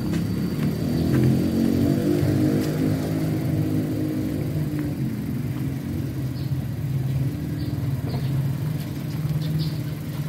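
A car engine is revved to raise voltage while jump-starting another car with a weak battery, giving a steady, loud, close rumble that swells slightly and holds.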